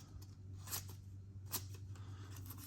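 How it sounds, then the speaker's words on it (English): A few small, crisp snips from the small scissors of a Leatherman Micra multitool, spaced irregularly, close up against a low steady hum. "since scissors are my favorite part"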